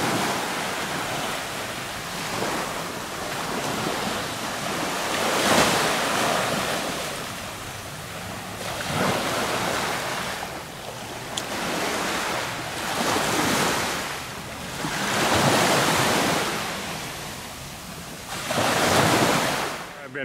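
Waves break and wash onto dark volcanic sand at Blue Lagoon Beach, St Vincent, in rough water with gusting wind, a steady roaring surf swelling and fading in repeated surges, with no voices.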